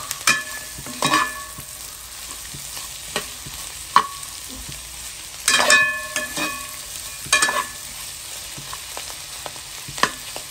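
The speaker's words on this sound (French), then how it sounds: "Il laisse aller bien roussi, bien travaillé dans la marmite, l'ourite et l'oignon et les oignons." Onions and dried octopus frying in a cooking pot, a steady soft sizzle broken by several scraping stirs and clatters of a spoon against the pot, close up with no talking.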